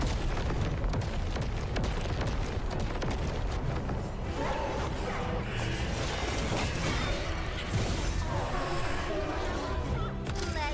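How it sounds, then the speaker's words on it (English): Explosions and combat blasts in the video game Arknights Endfield, a dense continuous barrage of booms and crashes layered with game music, with someone talking over it throughout. "Too many explosions, not enough stamina."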